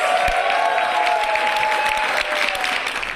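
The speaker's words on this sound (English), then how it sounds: "a huge round of applause for our 10 finalists" Audience applause for ten finalists at a Buddhist convention, a steady, dense wash of clapping from a large indoor crowd that holds evenly for a few seconds.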